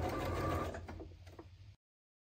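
A sewing machine stitches around the edge of a fabric place mat with a short, fast mechanical whirr that slows and stops abruptly, close and fairly quiet.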